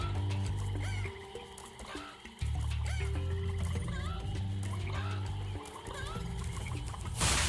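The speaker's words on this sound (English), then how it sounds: "here we've got some spotty chickens" Leopard-spotted chickens clucking in Spyro Reignited Trilogy, their short clucks and squawks layered over a loud, steady game soundtrack.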